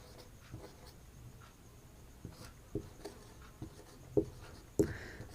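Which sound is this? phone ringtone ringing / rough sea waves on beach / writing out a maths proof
writing out a maths proof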